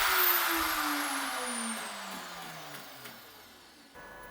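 A CNC router spindle motor running at 25,000 RPM gives a loud, piercing electric whine with a strong airy rush. Its pitch slides steadily lower across the clip, with no talking.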